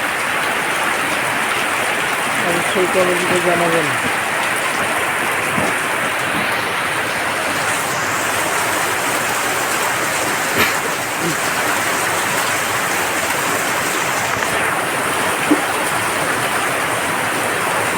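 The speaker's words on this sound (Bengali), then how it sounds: "বৃষ্টি হলো আল্লাহর রহমত" Heavy rain pours in a dense, unbroken hiss of water striking surfaces, loud and steady throughout, with a few faint knocks and a brief spoken voice near the start.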